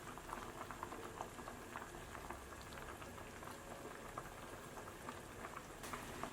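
Hot-and-sour soup with starch slurry coming back to a boil in a pot, a continuous soft bubbling and popping that stays steady and fairly quiet with no voices.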